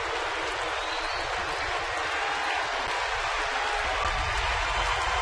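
A large baseball crowd of over thirty thousand at Petco Park in San Diego cheers and applauds in a broad, sustained roar, loud and unbroken throughout.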